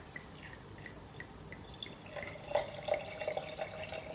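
Kangen water poured into a glass, a quiet trickle that builds into a clearer run of small drips and splashes in the second half, close and soft with no voices.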